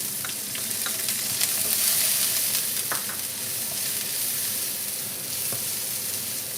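Spices frying in hot oil in a pan make a continuous close sizzle with occasional crackles and utensil taps, fairly loud and even, with no talking.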